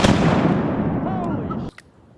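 A shotgun blast during a duck hunt in Arkansas, a loud broad burst that rings out and decays over about a second and a half before cutting off, with excited voices around it.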